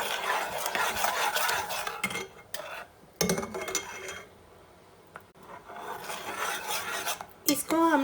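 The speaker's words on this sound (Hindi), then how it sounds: "इसको बराबर चम्मच चलाते रहेंगे और इसको हाई फ्लेम पर पकाएंगे" Mango jam stirred with a spoon in a pot over a high flame, rasping scrapes and rubbing in bursts with short pauses between, close and fairly loud, thick bubbling texture, no talk.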